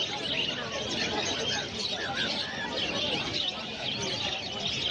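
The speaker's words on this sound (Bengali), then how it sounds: "দেখতে লুটিনো ককটেল এখানে আছে, 800 টাকা পেয়ার আছে।" Cockatiels and other pet birds chirp and call at a busy pet bird market in Uluberia, their steady tweets mixed into constant crowd babble and nearby talk.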